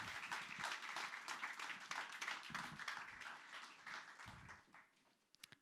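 A live English stand-up comedy crowd applauds steadily for several seconds, fairly distant and even, fading toward the end.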